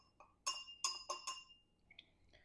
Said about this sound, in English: we'll throw that in and just give it a little stir